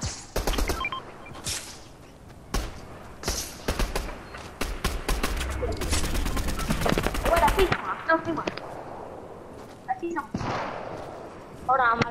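Rapid gunfire bursts in a shooter video game, loud bursts of automatic fire and single shots clustered through the first eight seconds, with players talking over the action.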